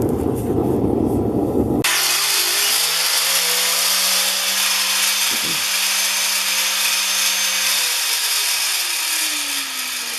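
A power tool spins up abruptly and runs with a steady high whine while polishing a hand-forged spear, its pitch dipping briefly under load partway through and easing down near the end.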